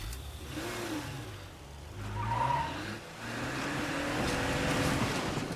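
A car in State of Decay 2 drives and skids, its engine droning and revving with a tire squeal rising midway, at moderate loudness with no voices.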